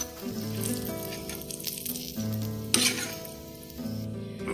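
Semolina fries in butter for kesari, a soft sizzle beneath music, with occasional light clinks of a utensil against the pan.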